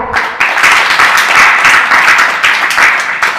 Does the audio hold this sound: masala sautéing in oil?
no